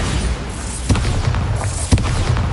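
Bombarda spells burst in the wizarding game Hogwarts Legacy, two close, booming thumps about a second apart over a steady background rumble.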